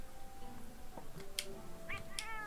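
A cartoonish cat meows a few times in the video game Monster Hunter World, with short bright calls over a steady background game ambience.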